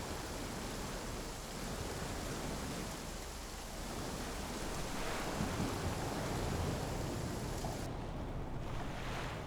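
A thunderstorm rages in the survival game The Flame in the Flood, with a steady, loud roar of rain and wind sustained throughout and no one speaking.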